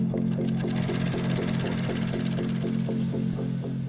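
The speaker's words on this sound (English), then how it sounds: "The first workers to get their hands on the cut leather are the sewers, who stitch pieces together." Sewing machine stitching leather pieces for Porsche 911 interiors in a factory, a steady droning hum with a fast regular mechanical pulse of the needle, moderately loud and continuous, no talk.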